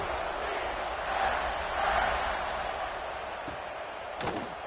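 A stadium crowd roars in a steady, broad wash of cheering during a college football video game kickoff between Georgia Tech and UCF, with a few thuds near the end.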